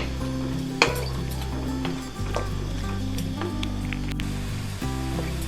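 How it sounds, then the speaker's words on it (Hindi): Onions frying in vanaspati ghee in a pan, a steady close sizzle with occasional stirring scrapes and knocks against the pot throughout, no voices. "हमने गोल्डन ब्राउन करने हैं प्याज़ों को।"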